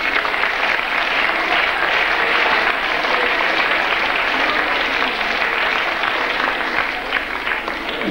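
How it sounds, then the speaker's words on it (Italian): A school audience applauds steadily with loud, dense clapping that holds at an even level throughout, with no break. "Io direi di fare comunque a lui un ringraziamento con un applauso."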